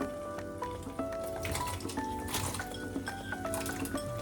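Diced potatoes tipped into a pot of Transcarpathian porcini mushroom soup, making soft wet plops, splashes and a few light clinks over a steady tonal background, with no talking.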